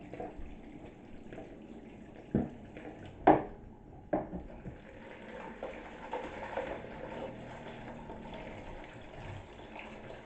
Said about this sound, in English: Right, let's fill this water up.